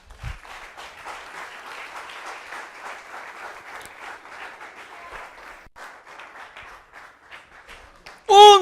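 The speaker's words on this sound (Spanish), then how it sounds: "Dele un aplauso al Rey." A congregation claps steadily at a church service for several seconds, an even, moderate patter of many hands, ending with a sudden loud burst.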